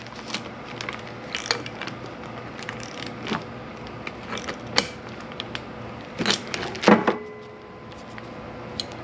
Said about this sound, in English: Let me tighten up this fitting real quick.